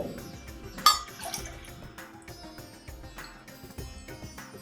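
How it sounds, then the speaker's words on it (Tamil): Water is poured into a pressure cooker for brinji rice, a quiet trickle and splash close by with a brief louder pour near the start. "இதுக்கு இப்போ தண்ணி விடுறேன்."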